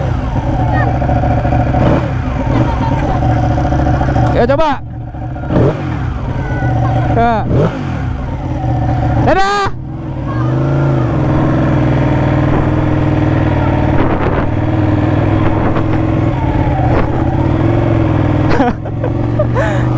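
A Ducati motorcycle idles with a steady low rumble, broken by several sharp throttle blips and revs. People talk briefly nearby.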